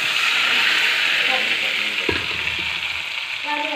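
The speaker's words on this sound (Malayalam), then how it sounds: "ഈ കടുക് ഇടട്ടെ, കടുകും കരിവേപ്പില ഇടട്ടെ." Mustard seeds and curry leaves sizzle steadily in hot oil while chickpeas are prepared, a loud continuous frying hiss with a stirring clatter partway through.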